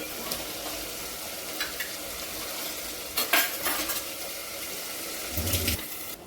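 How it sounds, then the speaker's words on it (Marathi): Washed moth beans tip into a pan of sizzling spices and are stirred in, giving a steady frying hiss with a wet splash and clattering spoon scrapes against the pan. "आता आपण ही मटकी धुवून त्याच्यात टाकायची आहे."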